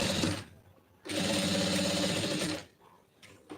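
A sewing machine stitches a blouse lining, running in two bursts: a short one at the start and a longer steady run in the middle, each stopping abruptly, with quiet between them and a brief click near the end.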